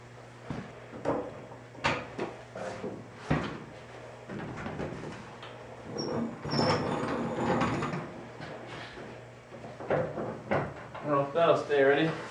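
Car door being hung on a 1973 Toyota Celica under restoration: scattered metallic clunks, knocks and scraping handling noises, fairly close, with a steady low hum throughout and people talking at times.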